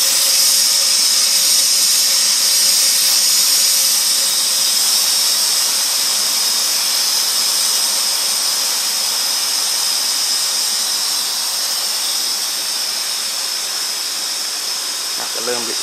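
An IR-RED infrared metal fiber burner, model MFB350R, firing as it turns down, giving a steady loud hissing roar with a high whine that holds for the whole stretch and eases slightly toward the end.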